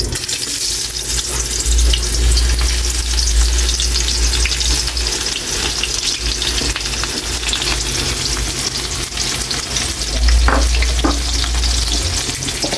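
Onions sauté in a hot frying pan, a steady broadband sizzle with occasional stirring clatter, loud and close throughout with no talking.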